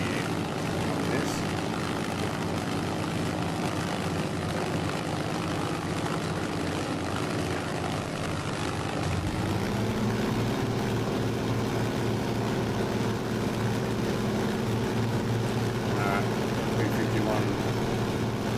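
The propeller engine of a P-51 in Microsoft Flight Simulator drones steadily and loudly for the whole stretch, and its tone deepens and thickens partway through as the power changes.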